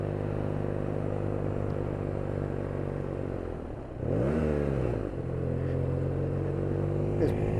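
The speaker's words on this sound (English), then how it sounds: "The exhaust sounds really cool." A 2017 BMW R NineT Urban G/S motorcycle engine burbles steadily at low revs while cruising, with a brief throttle blip midway; the exhaust note stays loud and close throughout.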